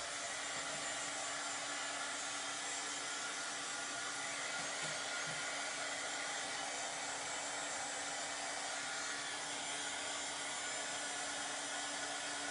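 A hair dryer blows steadily on a craft piece, a loud, even, continuous rushing whir that holds unchanged throughout with no talking.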